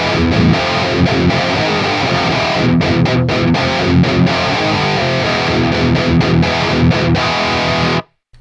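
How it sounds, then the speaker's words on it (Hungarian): A distorted electric guitar, run through an amp simulator plugin, plays a thick, saturated riff with rhythmic choppy stops in the middle, loud and alone, ending abruptly in silence. "És már van is torzított hangunk."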